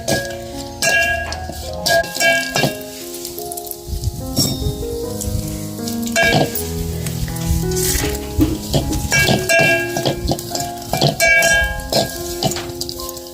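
Cashews, almonds and raisins roast in hot ghee in a pan. Steady crackling sizzle with scattered pops and stirring clatter runs throughout, with no talking.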